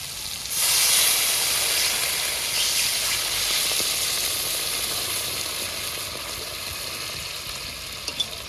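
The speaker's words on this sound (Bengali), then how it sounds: "মশলা ভাজা হয়ে গেছে জল দিয়ে দেবো" Water poured into a pan of spices fried with tomato and green chili for a mustard-poppy seed mirik fish curry bursts into a loud hissing sizzle that stays strong and slowly eases over several seconds, close up, with no speech.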